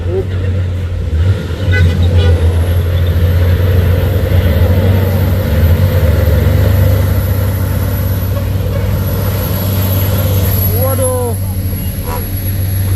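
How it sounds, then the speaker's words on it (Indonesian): A heavy trailer truck labors up a hill road at Bukit Kodok, its deep, loud engine roar droning steadily throughout, with voices heard faintly in the background. "Unit truk trailer"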